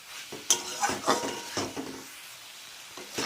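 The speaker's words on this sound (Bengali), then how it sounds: "আবারও ভালো করে কষাতে থাকবো" Curry of onion stalks, sweet potato, tamarind and tomato being stirred in a pan: several sharp clatters and scrapes of a spoon against the pan over a light sizzle, close and uneven, easing off toward the end.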